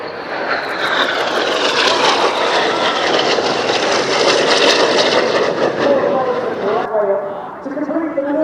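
Red Arrows jet aircraft rolling overhead at an airshow, a loud, sustained engine roar that swells and holds before easing as the jets pass, with commentary over a public address system throughout.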